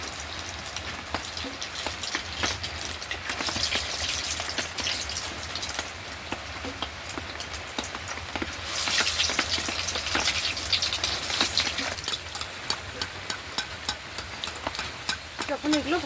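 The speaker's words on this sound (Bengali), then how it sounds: "এবারে চলুন বাকিগুলো একইভাবে ভেজে নেব।" Snacks deep-frying in hot oil in a home kitchen, a continuous dense sizzle and crackle like heavy rain, steady and close, with a brief louder burst midway.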